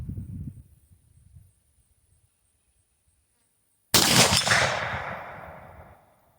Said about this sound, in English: I'm just trying to aim kind of center and just see where the bullet lands.